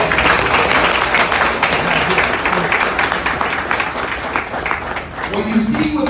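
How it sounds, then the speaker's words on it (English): Loud, sustained applause from a large crowd at a union meeting, dense clapping filling the whole stretch with a few voices and cheers mixed in. "Everybody give a round of applause for that."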